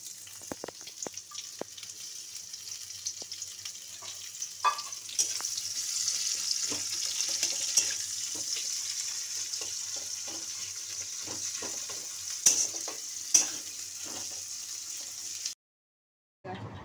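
Onion added to hot oil with chilli and bay leaf for a Bengali soybean curry, sizzling softly and stirred with scattered spatula clicks, fairly faint and close, no voices.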